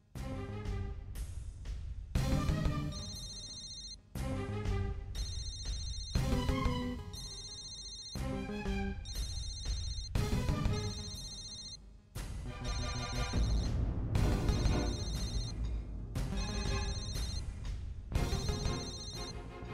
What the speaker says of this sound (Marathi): सौम्याचा फोन आहे.